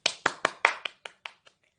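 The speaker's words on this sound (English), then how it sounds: "Let's give applause for all of us." A single person claps about eight times at a steady rhythm, close up, the claps fading gradually toward the end with no talk.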